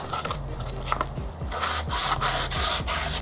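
Sandpaper rubs lightly over the tops of the front forks on a Razor MX650 electric scooter, making quick, close, rhythmic back-and-forth scratchy strokes.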